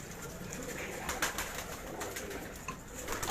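Karachi high-flyer pigeons coo softly in a loft amid dense, steady flock noise, with scattered brief calls and rustling over a constant background.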